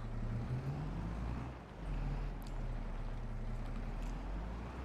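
A big cab-forward tractor in Farming Simulator 22 drones with a low, steady engine hum and a brief dip in the middle, heard alone and close up.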